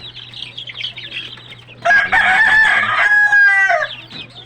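Chickens being fed cluck softly and irregularly at first, then one bird breaks into a loud, sustained crowing call nearby that ends abruptly.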